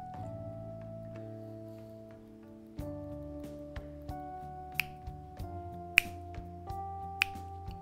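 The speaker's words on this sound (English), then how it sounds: "Wonder if you guys can hear me snap my fingers." Several sharp finger snaps ring out at irregular intervals, close and crisp, over a steady layer of sustained harmonic game music that shifts chords throughout.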